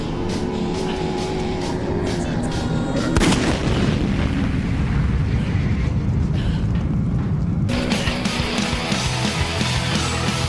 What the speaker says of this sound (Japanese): 爆破シーンとかも軍の本物の火薬を 使わせてもらってるっていう作品らしいです